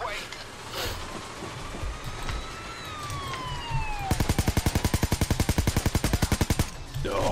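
Automatic gunfire in the video game Payday 2 rings out as a loud, rapid burst of evenly spaced shots after a wailing siren, with people talking over the game action.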